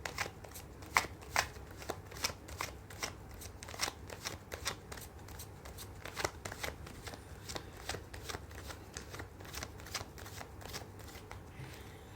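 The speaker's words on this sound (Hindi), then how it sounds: "मैं कर लेती हूँ कार्ड की शफलिंग।" Tarot cards being shuffled by hand, with crisp, rapid riffling snaps repeating in a steady rhythm for several seconds, quiet and close, with no voices.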